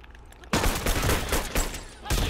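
Shotgun fire in The Last of Us, a loud close blast after a quiet moment, followed by a noisy scuffle of further shots, and a second sharp blast near the end.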